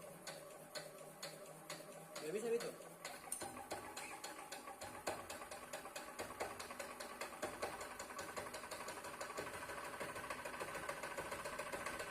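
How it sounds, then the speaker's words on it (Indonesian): A diesel engine in a lab practicum, started by hand crank, settles into a rapid, steady idle with a dense mechanical ticking and knocking rhythm that continues evenly throughout. "Setelah mesin menyala, biarkan berjalan pada kondisi ideal selama 4 hingga 5 menit"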